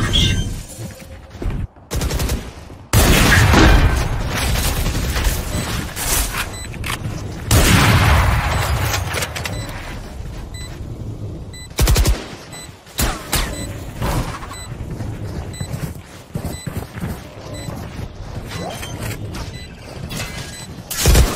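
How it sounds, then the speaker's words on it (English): Gunfire and explosions in the tactical shooter Valorant during a competitive match, loud bursts of rapid shots and booming blasts in repeated clusters separated by brief quieter gaps. "Bomb grenade out."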